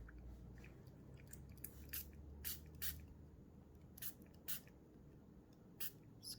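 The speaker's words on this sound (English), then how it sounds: "take your spray bottle and you want to spray on both sides of each layer" Quiet, repeated short spritzes from a spray bottle of water onto layered fabric flower petals, about ten bursts spaced irregularly over a soft background hiss.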